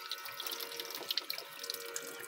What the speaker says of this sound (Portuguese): Aí, ó, pia com torneira, com água.